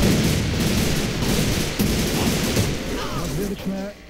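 Bursts of gunfire in the shooter game Alliance of Valiant Arms crack through a busy mix of rumbling effects, with a few sharp reports standing out over continuous background noise.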